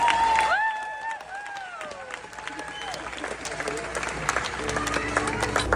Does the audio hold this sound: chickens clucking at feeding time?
no